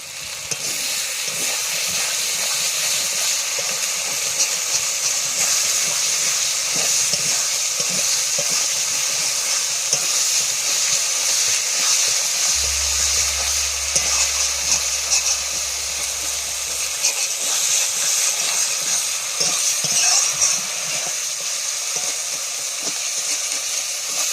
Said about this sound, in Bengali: মশলাটা কষানো হয়ে গেল।